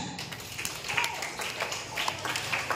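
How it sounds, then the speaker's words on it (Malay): School audience at an anti-drug awareness talk clapping, a fairly quiet, uneven patter of hands lasting a few seconds with some rustle and chatter in the hall. "Tepuk tangan."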